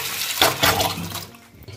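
Water sloshing and pouring in a bowl as flattened rice (poha) is rinsed, a brief burst of splashing and draining that fades toward the end, close and fairly loud with no talking.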